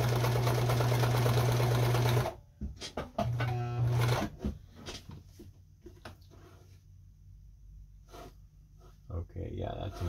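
A Kenmore 158.17740 sewing machine stitches in a loud, steady whirring run for about two seconds, then a second short burst, followed by quieter clicks and handling noises while a person talks.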